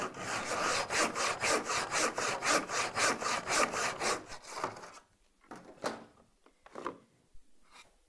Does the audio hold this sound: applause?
no